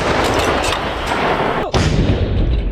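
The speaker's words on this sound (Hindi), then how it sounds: "रूसी तोपखाने के D-30 होवित्जर्स ने यूक्रेन के सैन्य ठिकानों को धुआं कर दिया" A Russian D-30 howitzer fires in a single loud, sharp blast about two-thirds through, set against continuous rumbling background noise with no talk.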